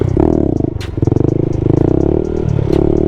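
Engine of a Honda Grom stunt motorcycle held at low speed during a slow wheelie, a loud close rhythmic putter with uneven throttle blips and a faint clatter, no talking.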